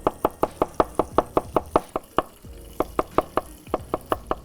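A knife quickly slices garlic cloves on a cutting board, making a fast, even series of sharp taps with a brief pause midway, while pancetta sizzles quietly in oil nearby.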